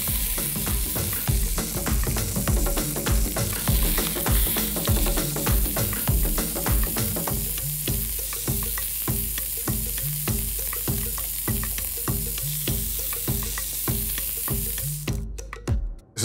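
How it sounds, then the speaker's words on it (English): Pork searing in a little oil in an extremely hot pan, a loud, steady sizzle that runs without a break, broken by regular clatter and scraping from the pan, then cutting off abruptly at the end. "So a little bit of oil in an extremely hot pan."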